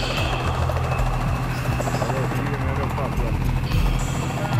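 A helicopter flies close overhead with a loud, continuous rotor chop and engine whine, and someone talks over it.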